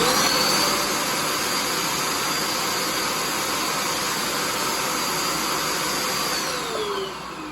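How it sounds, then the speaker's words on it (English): A Bissell Little Green Pro carpet cleaner's vacuum motor runs loud and close in a continuous high whine with broad airy rush, steady throughout and easing slightly at the very end. "I'm going to go ahead and turn the vacuum on."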